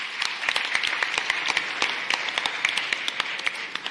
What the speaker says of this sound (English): So I want us to give him a round of applause.